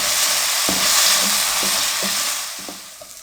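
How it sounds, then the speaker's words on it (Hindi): Potato manchurian batter frying in a pan gives a constant close sizzle, broken by regular scraping strokes as a spoon stirs it every half second or so. No one speaks. "अब इसको हम 1 मिनट के लिए फ्राई कर लेंगे।"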